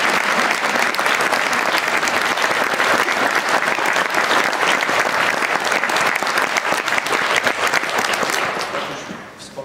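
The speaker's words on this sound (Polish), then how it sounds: "proszę o oklaski dla Zbyszka" An audience at a New Year's accordion gala gives Zbyszek loud, dense, sustained applause that fills the hall for several seconds before fading out near the end.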